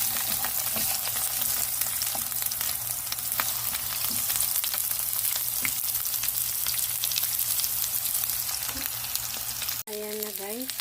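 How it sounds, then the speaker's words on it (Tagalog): Sliced onions fry in a hot pan for beef orange, giving a steady, close sizzle with occasional stirring; no one talks. "lagyan natin siya ng itong hiniwa nating sibuyas hanggang maluto"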